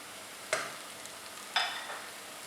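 Spiced dry potatoes coated in masala are stirred in a pan: two quiet scraping sweeps about a second apart, with faint frying sizzle between them.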